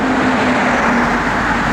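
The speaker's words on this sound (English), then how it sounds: "what a nice running and driving car" A 1970 Ford Torino GT drives along steadily, with a continuous loud engine and road roar and a steady low hum from inside the moving car, with no voices.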